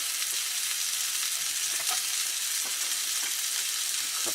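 Mushrooms frying in a pan in a van kitchen: a dense, even hiss of sizzling oil fills the clip steadily from start to finish, close and alone with no voices.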